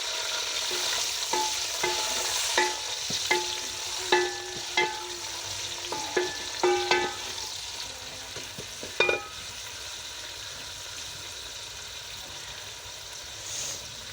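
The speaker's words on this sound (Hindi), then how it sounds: "अब डालूंगी इसमें अपने प्याज़ों को करेंगे हम हल्का ब्राउन" Onions sizzle in hot ghee in a pan, cooking toward light brown for a spinach dish. A steady, close frying hiss runs throughout, broken by scraping clicks of a spoon stirring during the first two-thirds.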